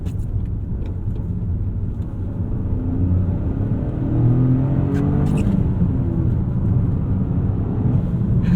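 A 2025 Toyota GR Corolla accelerating from inside the cabin, a steady rumbling engine note rising in pitch through the gears with brief dips at the shifts.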